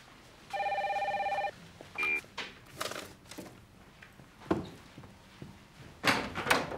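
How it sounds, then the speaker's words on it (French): An old telephone bell rings once in a long electronic-sounding trill, followed by a shorter second burst, then quiet room sounds and a few knocks and rustles. "téléphone."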